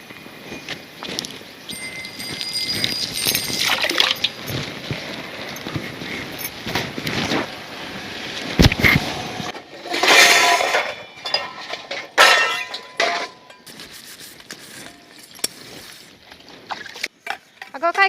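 Dishes being scrubbed and washed with water, with clinks of metal plates, splashes and scraping in a close, irregular clatter while people talk over it.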